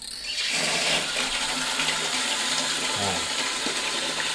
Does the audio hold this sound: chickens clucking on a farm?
no